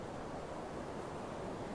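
Big ocean waves breaking on a shore make a steady, dense roar of surf and wash, with no gaps and no talking.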